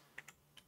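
Faint keystrokes on a computer keyboard, about four separate clicks spaced irregularly in quiet surroundings, with the last one louder.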